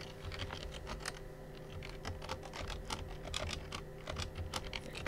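Rapid keystrokes on a computer keyboard, a steady run of close, crisp clicks over a low background hum.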